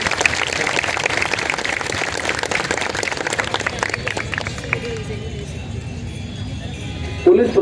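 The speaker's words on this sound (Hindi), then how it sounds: "तालियां" A crowd at a road-construction demand protest claps loudly for the police administration. The dense, rapid clapping is close and sustained over murmuring voices, then thins out toward the end.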